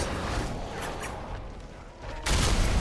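Enemies explode in Diablo 4 with a rumbling, crackling burst of blasts, dense and noisy throughout and swelling into a louder eruption near the end.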